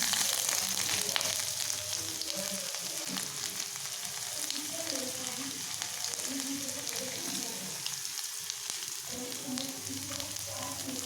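Ginger and garlic sizzle steadily in hot oil left from frying Manchurian balls, a continuous close crackle and hiss with occasional stirring, no voices.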